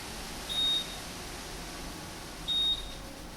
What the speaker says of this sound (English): That little beep that you're hearing is telling us that the battery is low on power